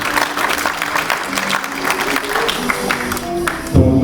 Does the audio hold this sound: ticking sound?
no